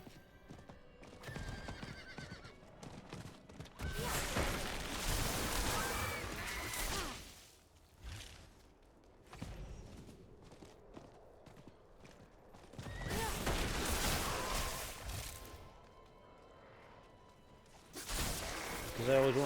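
A horse in the video game Darksiders 2 neighs and its hooves clip-clop in long loud stretches, broken by quieter gaps, amid game effects.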